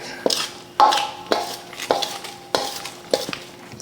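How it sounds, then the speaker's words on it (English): A spoon stirs crab pasta salad in a bowl, scraping and clinking against the sides in a steady series of close strokes, roughly one every half second, with no talk. "Just keep stirring."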